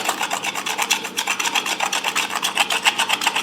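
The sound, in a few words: scraping old duct tape off a Land Rover Defender gearstick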